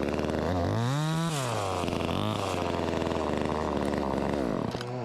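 A cheap Jiggly Dog chainsaw runs close by, its loud two-stroke whine revving up and down in several sweeps before settling to a high buzz and cutting off.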